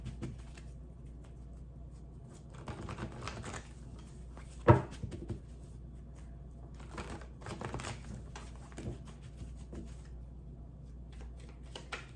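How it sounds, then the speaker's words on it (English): Tarot card deck (Light Seers deck) shuffled by hand, soft intermittent riffling and card slaps in short bursts, close up, with one sharper knock midway. "So I'm just gonna do a quick shuffle."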